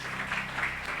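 Congregation clapping steadily during a Christian sermon, a dense, even wash of many hands held at a constant moderate level for the whole moment, with no voice over it.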